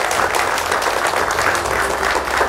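An audience at an evening event in Indonesia claps together in a dense, steady burst of applause that lasts the whole short span.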